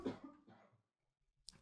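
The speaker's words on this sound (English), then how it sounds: "I'm going to cough." A single person's cough, a short rough burst followed by a fainter second one and a brief catch near the end, heard close and quiet with no talking.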